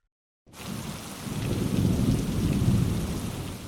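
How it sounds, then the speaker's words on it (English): A thunderstorm breaks in after a moment of silence, with steady rain hissing and low thunder rumbling throughout, close and building slightly in loudness. "Another storm broke the day after the battle."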